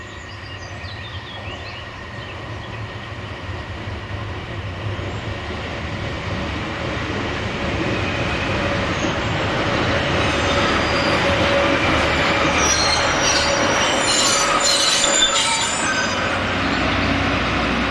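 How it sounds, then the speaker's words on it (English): A Peak Rail train rolls into Cromford station on the Derby to Buxton line, its wheels squealing with rising high-pitched shrieks over a steady rumble that grows louder as it comes close. "The train now enters Cromford station."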